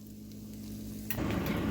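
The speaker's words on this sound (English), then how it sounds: "let the batter just fall out of the ladle and just set first in the pan" Pumpkin pancake batter drops from a ladle into a hot pan, and a loud, close sizzle starts suddenly after a quiet low hum, then holds steady.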